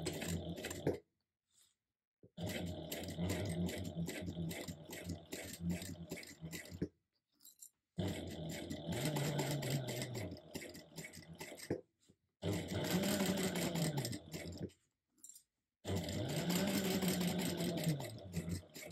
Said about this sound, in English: you're going to top stitch an eighth of an inch away along the whole top here on the folded edge